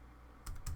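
Two quick, close taps on a computer keyboard, pressing the Escape key while drafting in AutoCAD, following a brief quiet room tone.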